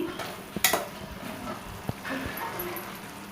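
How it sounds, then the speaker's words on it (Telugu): Drumstick tomato curry frying in a pan as it is stirred, with a soft sizzle, a few clattering spoon knocks against the pan, and brief scraping, close by. "ఐదు నిమిషాల తర్వాత ఒకసారి మళ్ళీ కలుపుకొని మెంతి ఆకులని వేసేసుకుందాం"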